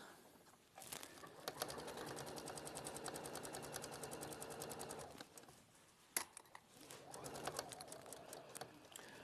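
Sewing machine stitching the underside of a shawl collar with a one-centimetre seam allowance, a fast steady needle rattle running in two long bursts separated by a short pause and a couple of sharp clicks.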